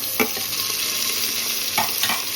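Tomatoes are stirred into hot oil in a frying pan for chicken rice, giving a steady sizzle with a few sharp spatula scrapes against the pan.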